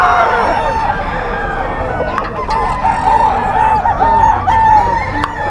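Sweater gray gamefowl roosters crow repeatedly at a game farm in Bocaue, several birds overlapping with steady clucking and yard noise in the background.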